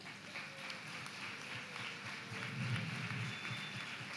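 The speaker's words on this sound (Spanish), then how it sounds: "le damos un aplauso" A church congregation applauding after a Sunday service tribute, a steady wash of many hands clapping that swells slightly toward the end, heard from a moderate distance.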